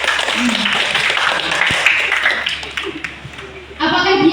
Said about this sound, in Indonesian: Betul. Tepuk tangan untuk Rocky.